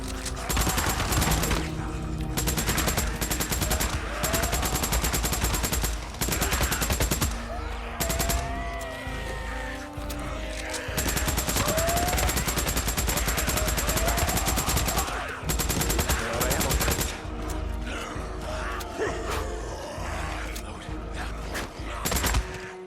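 Heavy gunfire mows down a horde in Days Gone, with long sustained bursts of rapid shots broken by short pauses, loud and close, alongside screeching creature cries and some voices.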